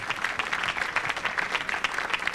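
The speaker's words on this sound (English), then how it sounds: "Give her a big round of applause." Audience applause at a telethon, a dense, steady wash of many hands clapping at once, sustained and fairly close without a break.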